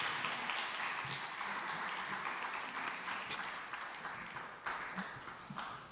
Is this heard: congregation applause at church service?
yes